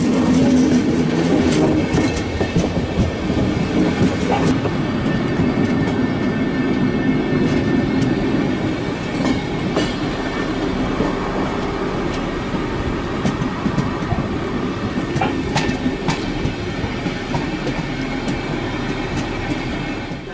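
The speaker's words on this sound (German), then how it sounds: "Kurz nachdem der Intercity zum Halten gekommen ist, schiebt der T4 die Kurswagen an den Bahnsteig." A T4 railcar pushes through coaches up to a station platform after an Intercity stops, a steady loud rumble of rolling wheels with clicks and faint squeals, running continuously without talk.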